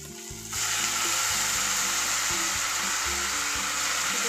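Tomato frying in a pan, a steady loud sizzle that swells after a brief quieter start and carries on continuously with a low rumbling undertone, no voices.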